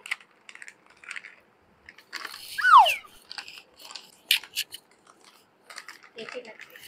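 A Mr Noodles ramen packet is torn and crinkled open in bursts of sharp plastic rustling and crackling, with one longer tearing rip in the middle, close and fairly loud, while someone talks briefly between the rustles.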